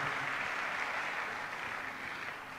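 Church congregation at a French-speaking worship service applauding, sustained dense clapping from a large crowd that stays loud throughout and eases off slightly toward the end.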